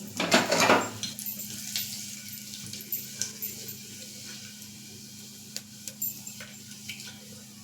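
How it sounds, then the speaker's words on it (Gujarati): Fennel seeds hit hot ghee in a pan with a brief loud hiss, then settle into a faint sizzle with scattered light clinks of stirring. "આપણે વરિયાળી છે તે ઘીમાં શેકી લેશું અને ગેસની આંચ ધીમી કરીશું"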